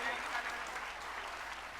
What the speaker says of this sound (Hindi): चलो जोरदार तालियां बजा दो भैया